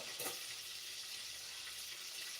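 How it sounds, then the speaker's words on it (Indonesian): Fish frying in a pan at home while breakfast is cooked, giving a steady, even sizzle of hot oil that holds at a moderate level for the whole stretch with no talk. "Ini lagi goreng ikan ya guys"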